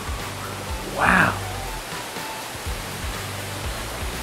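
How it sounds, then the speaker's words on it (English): A waterfall in an indoor rainforest butterfly sanctuary gives a steady broad rushing hiss throughout, with a brief brighter voice-like burst partway through layered over the constant water noise. "You can see that waterfall."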